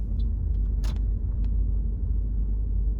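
A 2015 Toyota Auris with a 1.33 engine cornering under throttle, heard from inside the cabin as a loud, steady low engine and road rumble, with a few faint clicks and no talk.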